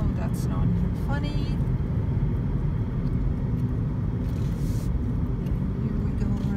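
A car drives down a winding mountain pass road between Invercargill and Wanaka, its engine and road rumble steady and close from inside the cabin, with people talking over the noise.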